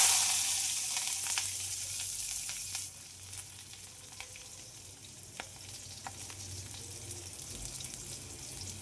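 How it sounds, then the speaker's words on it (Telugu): Mustard seeds, cumin and onions fry in hot oil with a low steady sizzle, close but fairly quiet. Small scattered pops and a few spoon clicks break through the hiss. "ఆవాలు, జీలకర్ర వేసి ఆనియన్స్ వేసి బాగా కలబెడదాం"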